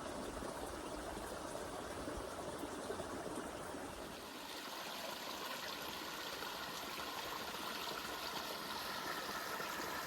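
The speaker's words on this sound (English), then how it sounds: "The noise of the water that you were hearing when we just said hello is this little stream, this little brook down here." A small brook flows beside the 13th-century St James's Church in Bratton, Wiltshire, England, giving a steady, close, continuous rush and babble of water with no pauses.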